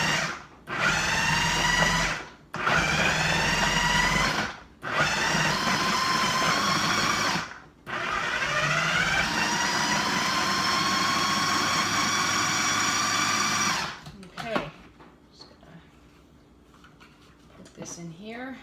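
A food processor pulses roasted tomatoes in four short, loud whirring bursts separated by brief gaps, then runs in one longer continuous spin before stopping, followed by quieter clinks and handling sounds.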